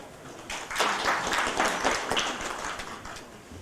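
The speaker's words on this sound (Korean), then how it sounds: "박수로 환영합시다" A conference audience at an international Sasang constitutional medicine meeting claps to welcome a speaker, a short, moderately loud burst of applause that swells and then fades over a few seconds.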